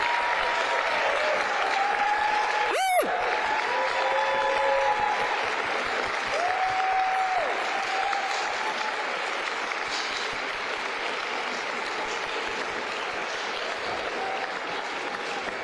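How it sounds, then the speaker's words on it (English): Families at a vocational technical student awards ceremony applaud continuously and cheer in a large hall, a dense sustained wash of clapping with a sharp whoop or whistle near the start and scattered shouts. "it's time for us to cheer for the adults and the families who have supported your shine"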